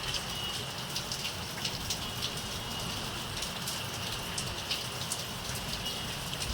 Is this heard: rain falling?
yes